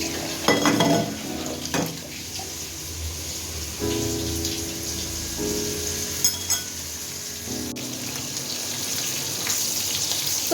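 Pangasius fish frying in a pan, a continuous moderate sizzle close by, broken by a few clinks and scrapes of a utensil against the pan.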